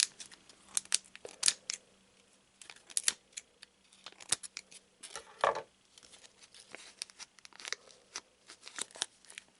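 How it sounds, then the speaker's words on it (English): Crisp foil crinkles, tearing and papery rustles come and go in irregular bursts as a Naruto trading card booster pack is opened close up, fairly quiet, with no talking. "we'll still open the pack, see if we get some good foils or rares"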